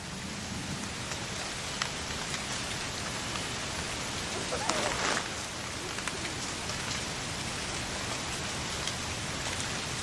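Rain falls steadily on a camp tarp in the wilderness, a dense even hiss of drops with a few louder patters, constant and fairly close throughout, no voices.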